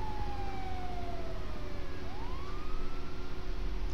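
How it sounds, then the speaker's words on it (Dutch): A police car siren in GTA V with the LSPDFR mod wails in slow rising and falling sweeps over a steady engine rumble, moderately loud and continuous throughout. "Dan mag de sirene wel weer uit."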